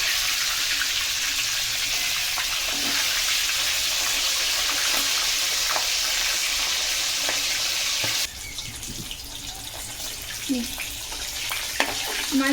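Fish heads frying in hot oil in a wok, a steady loud sizzle with spattering that drops slightly in level partway through, with a few clinks and scrapes near the end.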